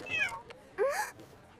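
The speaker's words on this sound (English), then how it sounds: "Is that a cat in here?" A cat meows twice inside a backpack at an airport security line, quiet and close, the second call longer and rising.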